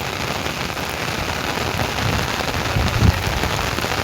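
The season's first rain pours down steadily and loudly on nearby surfaces, a dense hiss of drops with a slight swell near the end.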